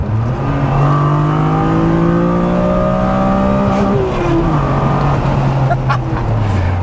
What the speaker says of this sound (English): nice little tap on the rev limiter